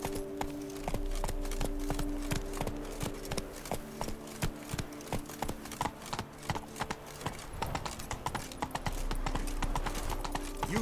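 Geralt's horse Roach trots through Toussaint in The Witcher 3, hooves clip-clopping in a steady, close rhythm over a low game ambience, with no speech in this stretch.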